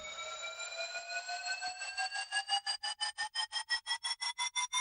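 A bright, buzzy synth tone with stacked harmonics glides slowly upward while auto-pan makes it swell and dip in volume, the pulsing growing faster and more choppy toward the end, heard alone at moderate level.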